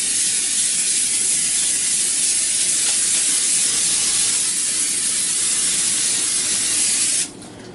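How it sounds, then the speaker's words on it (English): Cooking spray is sprayed onto a pan in a kitchen, a loud, steady hiss that runs unbroken for about seven seconds, then cuts off abruptly. "I'm going to spray that down to make it easier to clean"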